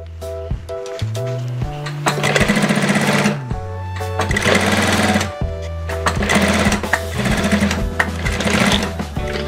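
A sewing machine runs in bursts while stitching a piped double-welt pocket, its rapid mechanical clatter starting and stopping several times, close and loud with no talk.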